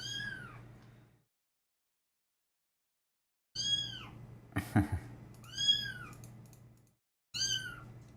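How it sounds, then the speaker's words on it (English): Two adult pet cats meow indoors in several drawn-out calls separated by silent gaps, close and moderately loud, with a few faint clicks between the meows. "Those are my other two adult kitties that have free roam."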